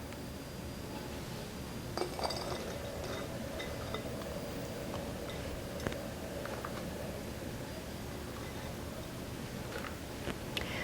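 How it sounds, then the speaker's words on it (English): Banana pepper rings are dropped into a glass quart canning jar, giving faint, scattered clinks and soft taps at irregular intervals against a quiet kitchen background. "So I'll place my banana rings in the jar."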